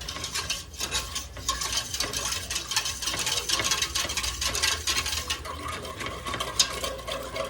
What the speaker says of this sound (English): So just keep stirring it around until it starts getting thick, right?